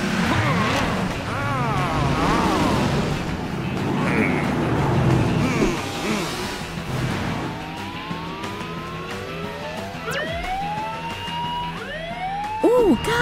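Cartoon race cars rush past in an animated race, with engine whines and swooping, rising and falling pitch sweeps over a busy music and effects bed, growing more tonal toward the end.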